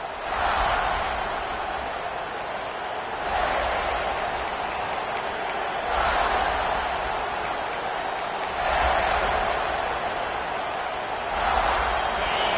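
A large football stadium crowd roars continuously at a home Eagles game, the cheering swelling in waves and loud throughout, with faint whistles and claps near the start.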